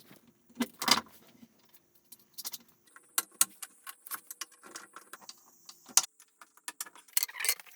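Metal wheels being fitted onto a homemade wheelchair frame with bolts, nuts and washers: a series of close, sharp metallic clicks, taps and small clinks in irregular bursts, fairly quiet with brief pauses between.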